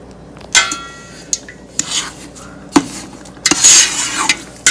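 A spoon stirs spices (turmeric and celery seed) into a sugary vinegar canning brine for cowboy candy, with close, irregular clinks and scrapes against the pot coming in short bursts.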